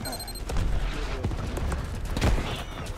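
Enemy gunfire in the Starship Troopers: Extermination video game, scattered bursts and booming impacts over a busy, noisy battle mix, with a louder hit near the end.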